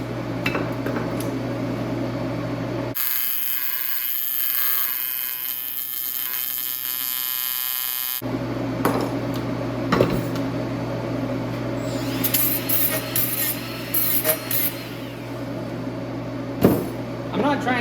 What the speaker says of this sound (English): I'm not trying to grind the weld per se, just the very toes and see if there's any lack of fusion.